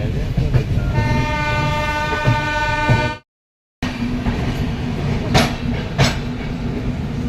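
Trains rumble steadily at busy New Delhi railway station, with a long sustained horn blast, a brief cut to silence, then continued rail noise and clatter.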